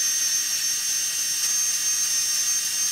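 A SKIL powered screwdriver spins at roughly 200 RPM while tightening, giving a steady, close, high-pitched motor whine with a fine ratcheting buzz and no talk.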